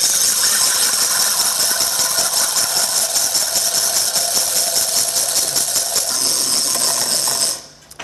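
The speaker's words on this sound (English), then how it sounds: "you just whiz away until you get nice stiffly beaten egg white" A hand-cranked egg beater whisks egg whites to stiff peaks, a loud continuous whirring clatter of gears and beaters that runs steadily for several seconds and then stops abruptly.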